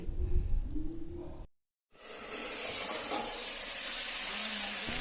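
Tomato chutney with salt cooking in a pan, sizzling and hissing steadily after a brief clatter and a moment of silence, like stirring followed by a lid going on.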